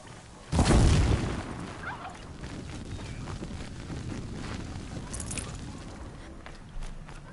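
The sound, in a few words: explosions in the distance in the video game Horizon Zero Dawn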